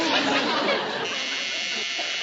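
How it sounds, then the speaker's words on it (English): Washing machine timer buzzer from a classic sitcom, a loud, harsh continuous electric buzz sounding throughout, with faint voices underneath. "It's the timer on the washing machine."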